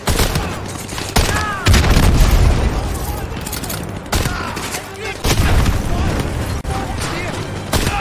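Booming explosions and heavy gunfire rumble loud and close in the first-person shooter Modern Warfare 2 Remastered, several blasts arriving in bursts with rattling shots between them, while a player talks over the action.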